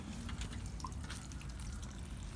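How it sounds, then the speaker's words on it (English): Water spilling from the waterfall of a backyard turtle pond: a steady close trickle and splash with scattered bright drips, continuous with no voices. "So here is the waterfall itself, the primary waterfall."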